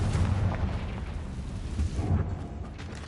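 In the Hogwarts Legacy video game, the Confringo blasting spell sets off a heavy rumbling explosion with deep booms and a rolling low roar. The blast stays loud throughout and no voices are heard.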